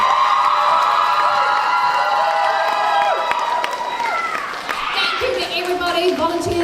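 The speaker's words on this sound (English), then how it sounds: "A massive round of applause please to all of our contestants this week." Audience at the Overload NZ 2025 cosplay competition cheering, shouting and applauding contestants, a loud sustained crowd roar with high whoops and children's shouts throughout.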